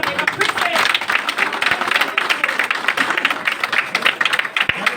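A meeting audience claps enthusiastically to welcome first-time guests, loud uneven applause with a voice speaking over it.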